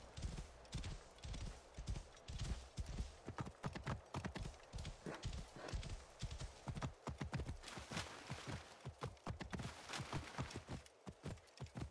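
Horse hooves galloping while riding in the video game Assassin's Creed Origins, a fast, steady clip-clop of rapid hoofbeats, close and continuous with occasional snorting.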